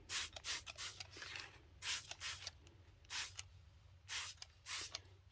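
Short hissing bursts from a spray can onto paper repeat at an uneven pace, quiet and close, over a steady low hum.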